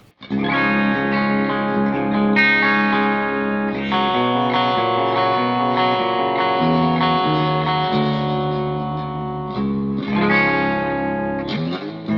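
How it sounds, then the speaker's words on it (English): A clean electric guitar on the bridge pickup plays sustained chords and single notes with a bright, twangy tone, loud and close, with no talking. "I don't usually play clean on the bridge pickup, but here it is"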